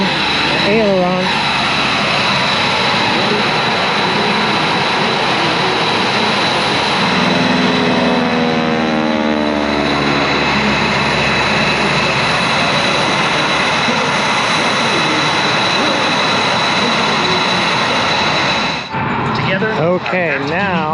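Large cargo planes pass overhead at the Wings Over Solano air show in 2024, a loud continuous engine roar with a sweeping rise and fall in pitch as they fly by, steady crowd and wind noise throughout.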